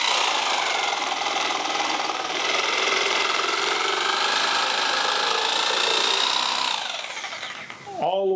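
A power saw cuts steadily through wood at full RPM for about seven seconds, a loud continuous whine that then tapers off as the blade finishes the cut.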